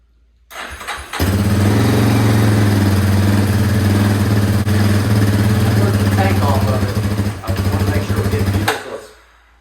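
A Yamaha Warrior ATV, just fitted with a new stator after a long spell unridden, cranks briefly, catches and settles into a steady, loud, close engine drone that holds for several seconds before cutting off.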